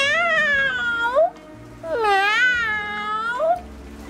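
A storyteller's voice imitates an old cat's plaintive, wailing meow, drawn out in two long mournful cries, close and loud with no other talk.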